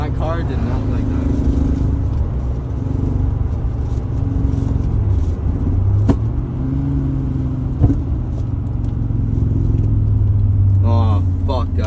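Audi Coupe Quattro engine rumbling steadily from inside the car, with low droning tones that shift in pitch as revs change, one sharp click partway through, and a voice heard briefly near the end.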